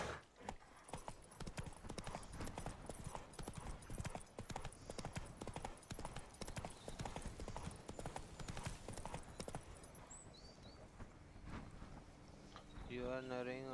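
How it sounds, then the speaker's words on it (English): A horse's hooves clip-clop at a steady trot in the video game The Witcher 3, loud and continuous, with some background game sound and a brief tonal effect at the end. "Whoa there, Roach"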